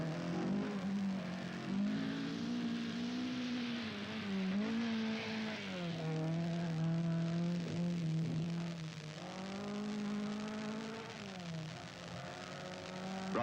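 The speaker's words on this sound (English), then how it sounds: "with one tyre out and running on the rim, he has all sorts of trouble trying to control the powerful mass sport Escort at high speed" Rally Ford Escort at high speed on a blown rear tyre, running on the rim: a loud, continuous engine drone rising and falling in pitch as it revs through gear changes, heard alone.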